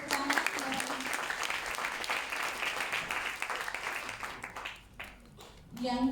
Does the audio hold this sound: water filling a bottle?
no